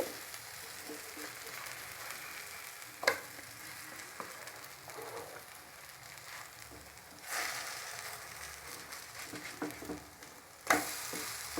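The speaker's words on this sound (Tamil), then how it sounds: "நல்லா பொரியட்டும்." Moong dal bread toast frying in a pan, a steady soft sizzle and crackle of oil with a few sharp clinks of a utensil against the pan, no voices.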